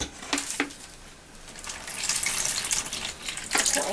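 Vinegar poured into a snack bag for a carbon dioxide experiment, a close, soft splashing trickle with a couple of sharp taps at the start and a gushing pour building toward the end.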